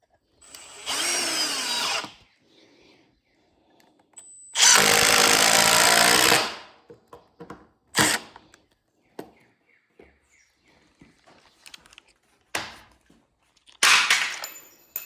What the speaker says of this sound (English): I'm gonna sink a few screws in here and be done with these side braces.